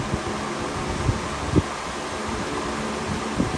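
A Dayton box fan running at medium speed and blowing its airstream straight into the microphone gives a steady, broadband rush of wind noise with a few soft buffeting thumps, close and constant.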